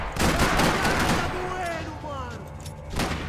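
Gunfire in the Max Payne 3 video game, a dense burst of rapid shots that fills the first half, tapering under game sounds and a voice, with another loud shot near the end.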